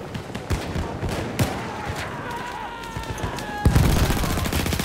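Battlefield 1 gunfire with submachine guns in a busy multiplayer firefight, rapid shots crackling continuously over a dense battle bed, with a louder close burst near the end.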